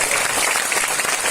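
Audience applause at a seminar in Delhi, a dense, loud burst of continuous clapping from many hands filling the whole moment.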